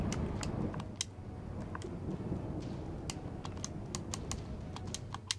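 Fingers tap on a computer keyboard during a Neverwinter game session, a quiet, irregular run of crisp keystrokes over a low background hum.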